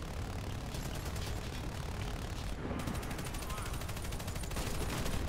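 Gunfire from a squad shooting at bots in a video game, a steady, dense rattle of rapid shots under a constant loud background din, with no clear talk.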